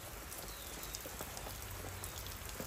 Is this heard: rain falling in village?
yes